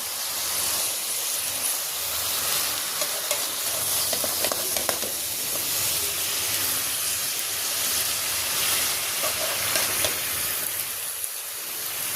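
Greens tossed into a pan with sautéed shrimp, giving a loud, constant hissing sizzle with faint stirring scrapes, steady from start to finish and free of speech.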